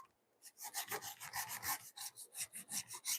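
A hand saw cutting a wooden corner brace in a home workshop, working in an awkward backhand stroke, producing a steady rhythmic rasp of quick back-and-forth strokes, close and clear.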